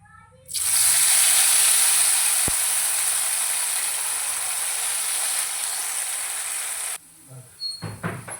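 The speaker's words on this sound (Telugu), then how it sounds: "ఫ్రై అయిపోయినాయి కదా ఇప్పుడు మిగిలినవి కూడా వేసేసుకుందామండి" Potato slices frying in oil in a pan on a stove, a loud steady broadband sizzle that starts abruptly and runs for several seconds, then cuts off and gives way to a few soft clatters.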